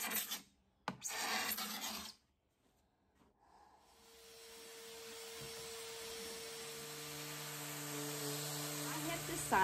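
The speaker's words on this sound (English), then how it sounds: "I'm using my Surfprep sander intermittently with my Carbide scraper" A Surfprep sander used by turns with a carbide scraper on a wooden table top: brief rasping scrapes at first, a pause, then a sander's hiss and whine ramping up and holding steady, fairly quiet.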